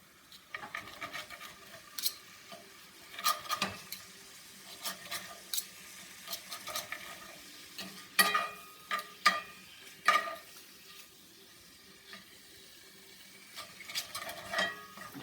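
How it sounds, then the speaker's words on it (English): Chicken, mushrooms and peppers chopped and stirred in a frying pan, a steady faint sizzle under irregular scraping and clicking of a utensil against the pan, with louder knocks every second or two. "Keep cutting it up, stirring it up."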